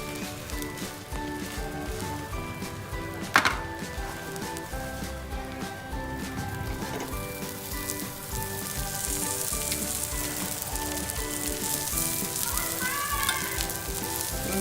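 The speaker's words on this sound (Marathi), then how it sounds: "दोन्ही बाजूने मस्त असं बटर लावून आपण त्यांना शेकून घेणार आहोत" Pav buns toasting in butter on a hot pan, a steady crackling sizzle with one sharp knock early on and background music running throughout.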